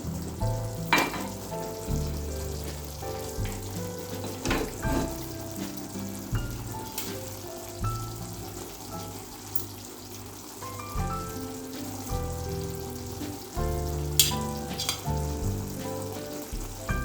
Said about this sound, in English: Once kadai gets heated, add 2 tablespoons of oil.